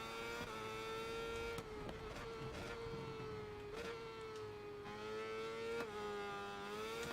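A motorcycle engine in the racing video game SBK 22 whines at high revs, its steady tone briefly dipping and jumping with several quick upshifts, heard faintly with no talking.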